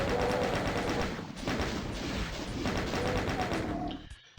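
Rapid bursts of plasma gun fire in the DOOM video game, dense repeated electronic shots rattling in quick succession, loud and continuous before cutting off abruptly at the end.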